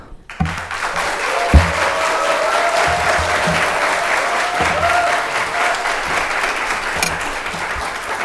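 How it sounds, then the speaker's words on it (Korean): A young adult congregation at a church youth worship service greets the arriving preacher with sustained applause and cheering, a dense wash of clapping that begins after a brief quiet moment and carries on evenly throughout. "우리 청년의 함성과 박수로 맞이하도록 하겠습니다"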